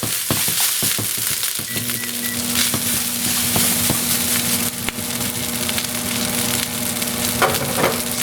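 Sea urchin frying in a pan of oil, a steady close sizzle with occasional crackles and scraping stirs throughout, no talking.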